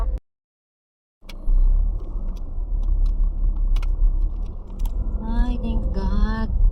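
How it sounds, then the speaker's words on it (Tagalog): A car being driven, its low road rumble and engine drone steady and fairly loud after a sharp click and a moment of silence, with faint tonal sounds near the end. "Mag-drive muna ako."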